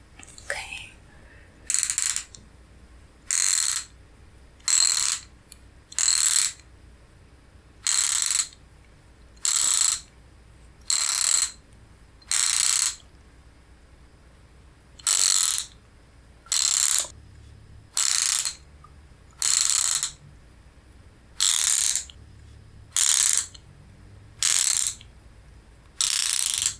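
Close, crisp ratchet strokes loosen the screws on a panel in a quiet ASMR repair setting, clicking in about sixteen evenly spaced bursts with silent gaps between them.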